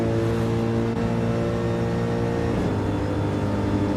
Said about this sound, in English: Gecko has to back off the throttle through there anyway.